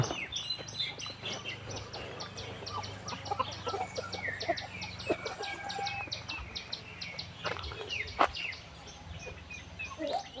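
Chickens at a temple in Lampang, Thailand, clucking and calling busily while waiting to be fed, a steady cluster of overlapping cries close by with a brief louder squawk near the end.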